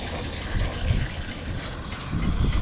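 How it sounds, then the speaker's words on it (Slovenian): Hot water from a boat's shower gushes steadily into a washing machine, a continuous loud hiss and splash of filling liquid with no pauses and no talking. "Zdaj bom pa kar vodo vzel iz tuša,"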